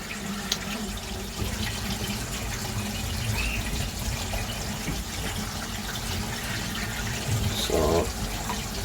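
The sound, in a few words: water flowing from UV clarifier into koi pond filter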